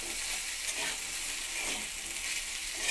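Potato pieces frying in hot oil in a pan alongside fish, a steady bright sizzle with soft scraping as they are stirred, close and continuous without talk.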